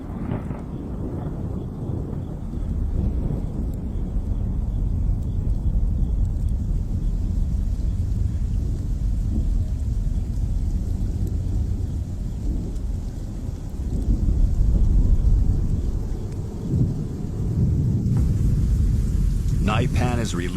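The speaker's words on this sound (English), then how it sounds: "Storm clouds gather once again." Desert thunderstorm with heavy rain and rolling thunder, a dense, continuous roar with a deeper surge midway, steady and enveloping throughout.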